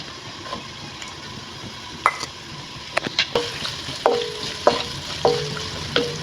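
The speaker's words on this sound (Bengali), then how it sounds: "আমি পেঁয়াজটারে হালকা ভাজা ভাজা করে নিব" Onions fry in oil in a pan for khichuri, a steady soft sizzle under repeated crisp spatula scrapes and clicks against the metal that grow busier toward the end, with no talking.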